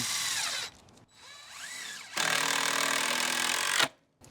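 A power drill whines into wooden deck boards in several bursts, rising and falling in pitch, with short pauses between, close and fairly loud.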